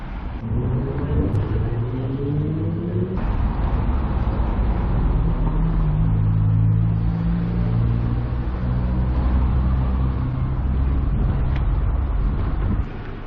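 A car on a suburban road near Warminster, its engine rising and shifting in pitch as it passes close by, over a continuous roar of traffic and wind, with no talking.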